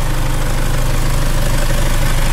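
A Toyota 2KD common-rail diesel engine with its exhaust fitted idles at steady close range, a continuous low rumble with an even, slightly knocking diesel pulse throughout.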